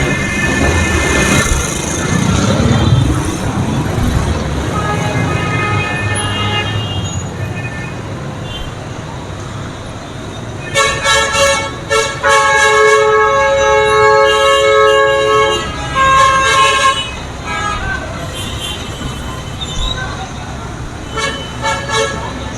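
Gridlocked traffic on Karachi streets, with repeated car and bus horns tooting in bursts over a constant road rumble, while people talk nearby.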